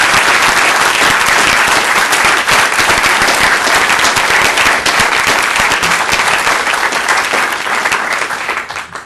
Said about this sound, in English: I'd ask the audience if we could all give our candidates an applause for being there.